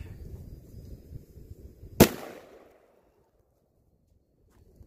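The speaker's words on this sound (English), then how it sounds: "If you ever shot a 500 mag with 700 grain bullets in, like, 0 degree weather" A single deafening shot from a .500 Magnum revolver loaded with 700 grain bullets, fired outdoors in freezing weather. The sharp crack is followed by a short decaying echo, then near silence after low rustling.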